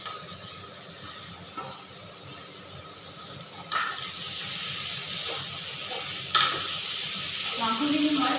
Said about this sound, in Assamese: পিয়াজখিনি মই কিছু সময় ভাজি ললো এতিয়া মই এয়া মাংসখিনি ইয়াতে দি লম